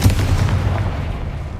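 A Confringo blasting spell explodes in the video game Hogwarts Legacy, a deep booming burst with a low rumbling tail that fades over a second and a half, loud and close.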